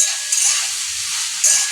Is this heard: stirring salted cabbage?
yes